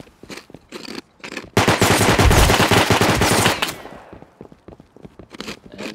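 Gunfire in the Rust video game: a loud, dense burst of rapid automatic shots lasting about two seconds, bracketed by scattered single shots and footsteps-like clicks before and after.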